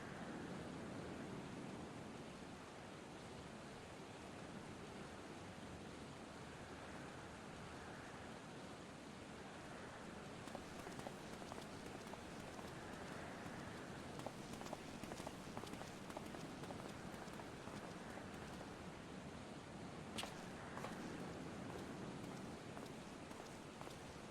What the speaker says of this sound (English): That noise made me think it was raining, but I was like, it doesn't look like it's raining. But it's not, just water.